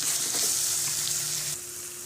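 Tomatoes with a pinch of salt cook in a pan for a bachelor-style biryani, giving off a steady hissing sizzle that drops off abruptly near the end.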